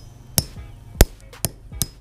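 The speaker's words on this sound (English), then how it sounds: "we're gonna do a smash test for the gummy bears" Four sharp hammer strikes land on gummy bears frozen hard with dry ice, spaced about half a second apart, each a loud close crack with a brief ringing tail.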